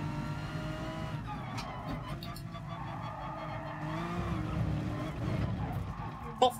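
A race car in GT Sport, driven in VR on the Nürburgring, slides into oversteer, its engine droning steadily while tires squeal and skid in wavering pitches, with a short sharp thump at the end.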